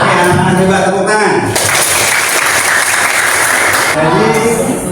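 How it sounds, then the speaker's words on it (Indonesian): Schoolchildren clapping together in a classroom, a loud burst of applause in the middle with talking and noise before and after. "Oke, anak-anak coba tepuk tangan."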